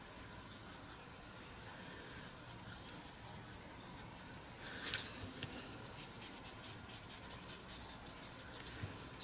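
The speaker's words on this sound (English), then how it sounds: "I'm gonna use some of the graphite and just get some shadows" Graphite pencil shades a sketch on paper in a soft, steady scratching that turns into quicker, rhythmic back-and-forth strokes, close and faint, with no talking.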